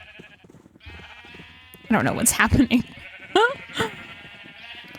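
Sheep in the Minecraft video game bleat a few times in quick succession, clear and close, alongside a person talking.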